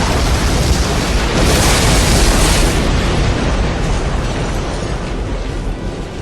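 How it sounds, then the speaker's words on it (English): A loud, roaring sci-fi photon cannon blast surges for several seconds, harsh and full, then slowly thins and fades, with no voices. "Go ahead and describe this giant laser destroying her."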